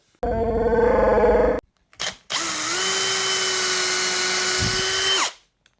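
An electric drill bores holes into a wooden guitar body with a 2mm bit: a loud, close whine runs for over a second, stops, gives a short burst, then returns as one steady whirring run of about three seconds before winding down.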